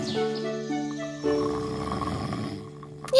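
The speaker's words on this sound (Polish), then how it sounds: "ciągle spał i głośno chrapał" A cartoon bear snores loudly through its winter sleep, long drawn-out rumbling breaths layered over sustained background music, with a sharp louder sound at the very end.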